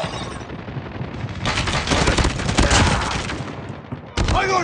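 Rapid Call of Duty gunfire crackles in dense bursts, building from about a second and a half in and staying loud, with brief voices and a sharp burst near the end.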